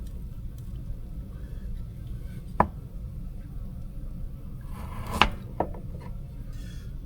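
A knife chopping frozen onions, a few sparse sharp chops against a board separated by long gaps, over a low steady background hum.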